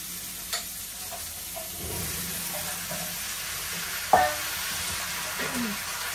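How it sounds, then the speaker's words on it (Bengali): Fish and onion fry in a pan as potato and jackfruit are added: a steady close sizzle and hiss with a few soft stirring knocks and one sharp clink midway, no talking. "এই যে এখন মাছ আর পেঁয়াজটা একটু ভাজা হয়েছে, এখন এই যে দিয়ে দিলাম, এর সাথে একটু আলু দিচ্ছি আর যে কাঁঠাল দিচ্ছি।"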